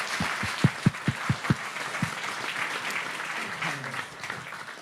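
An audience applauds to welcome a speaker at a startup sales talk, a few sharp separate claps up front giving way to a fuller, steady patter of many hands.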